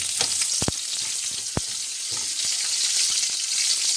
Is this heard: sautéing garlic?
yes